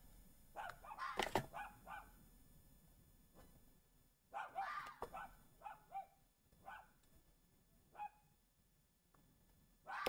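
A fox raised like a dog tries to bark, giving a series of short, yappy dog-like barks and yips spaced irregularly, fairly faint against a quiet background.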